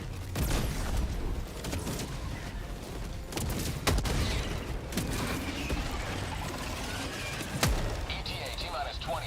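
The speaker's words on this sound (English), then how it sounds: "Throwing grenade." A thrown grenade goes off in Helldivers 2 amid ongoing battle, a sharp boom standing out among scattered gunfire and impacts, with voices and game radio chatter over the action.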